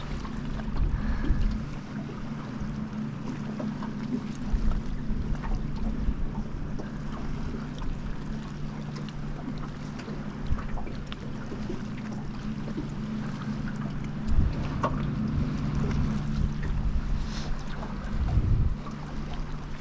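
Steady wind buffets the microphone outdoors on a fishing boat at Karumba, a constant low rumble with occasional stronger gusts and faint water-vehicle noise, no voices.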